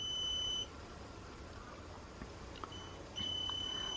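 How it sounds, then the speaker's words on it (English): A QUCC battery management system beeps a steady electronic tone during charging, in two stretches at the start and end, over a constant low hum, near and moderately loud. "the BMS is beeping like hell"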